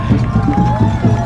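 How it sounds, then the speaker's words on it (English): A crowd of spectators along a marathon course cheers and shouts in a dense, close, continuous roar during a brief moment, with footsteps and bustle mixed in. "Quite a crowd here."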